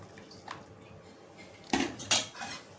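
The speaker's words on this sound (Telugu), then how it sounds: "బాక్సులు మూత పెట్టేద్దాం" Lids clatter as they close onto lunch boxes: a faint tap is followed by two louder metallic clanks in quick succession, close by.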